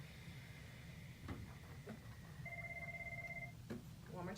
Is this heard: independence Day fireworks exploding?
no